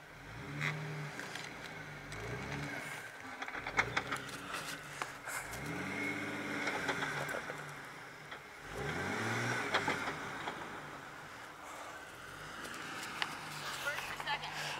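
A vehicle engine revs in repeated surges while backing straight up over a stump and getting stuck, the rising and falling drone swelling every few seconds, with people talking over it.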